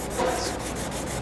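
Sandpaper rubs steadily back and forth on a craft object in a workshop, a close, even scratchy rasp with soft rhythmic strokes.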